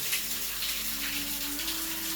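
A small waterfall spills down inside a rocky gorge, giving a steady, fairly loud splashing wash that runs unbroken, with a faint low tone sitting beneath the water noise.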